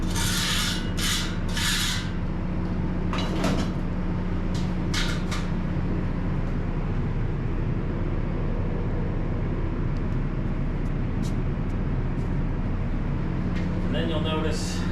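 Sieve screens are scraped inside a Mary Anne gradation shaker: rasping, rubbing strokes come in short bursts over a constant loud mechanical drone, close by and with no one speaking.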